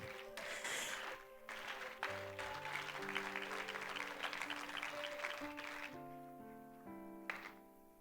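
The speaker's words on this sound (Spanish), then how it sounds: "Dale un aplauso al Señor." A church congregation applauds through a sustained round of dense, fairly soft clapping, with held organ or keyboard chords playing beneath it.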